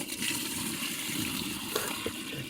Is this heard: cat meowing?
no